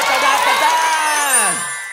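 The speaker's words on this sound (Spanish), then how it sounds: "¡Un aplauso!" Audience cheering and whooping for a magician's trick in a Halloween children's show, a lively crowd of voices shouting together, loud and sustained before trailing off.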